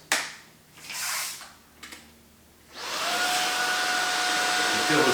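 A Shark Vertex cordless vacuum cleaner with its soft dusting brush attached starts with a few short bursts, then settles into a loud, steady whirring hum held up close.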